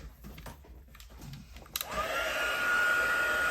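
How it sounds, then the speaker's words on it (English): A heat gun starts up partway through and blows a steady, loud whooshing roar with a rising whine, drying white pigment ink on a layered floral paper craft piece after a few quiet handling sounds. "just hit it with a heat gun"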